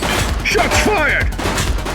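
Rapid burst of gunfire in the police video game The Precinct, loud cracking shots over a dense rumbling background, with a voice speaking partway through.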